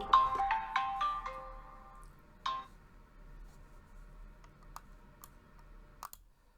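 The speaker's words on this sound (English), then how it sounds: "I had to get a phone call there." A phone ringtone plays a few quick melodic beeps at the start, then fades into scattered clicks and taps like keys, fairly close and with no talk.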